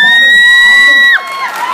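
An audience at a stage show cheers, with a loud, sustained high-pitched whoop over crowd noise. It cuts off abruptly and leaves a quieter murmur of the crowd.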